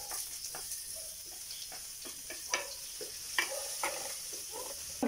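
Ginger and garlic frying in a pan for Filipino bopis, a steady soft sizzle broken by scattered clicks and scrapes of stirring, close and moderately quiet.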